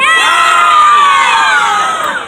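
A large crowd of children cheers and shouts together at close range, a loud, dense, sustained roar of high voices lasting a couple of seconds before fading slightly at the end.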